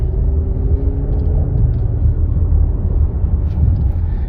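Steady, loud low rumble of a salvage 2013 Cadillac ATS engine running, a continuous drone with no gaps and no talking over it.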